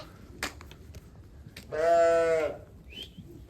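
A single lamb bleats once, a sustained wavering cry against a quiet background, with a faint bird chirp shortly after.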